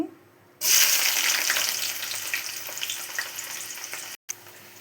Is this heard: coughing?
no